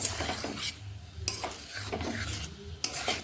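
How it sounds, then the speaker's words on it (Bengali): Vegetables, including flat beans and pointed gourd, are stirred and mixed in a pan with a few scraping strokes and light clinks of the spatula, close up and without talk. "এবার এইভাবে নেড়ে আমি কয়েক সেকেন্ড ঢাকা দিয়ে দেব"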